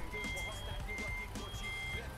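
Reversing beeps from a truck in American Truck Simulator repeat in an even, steady rhythm at moderate volume over engine rumble, with someone talking faintly underneath.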